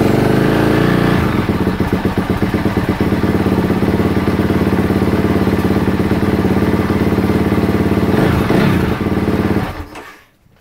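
Honda CRF450R or CRF250R motocross bike engine running loud and close at a steady rough idle with rapid clattering pulses, the engine cutting off abruptly near the end.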